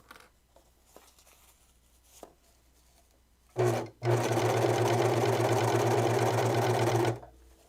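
A serger stitches fabric for homemade snow pants: after quiet handling and a short burst, the machine runs steadily and loudly for about three seconds before stopping.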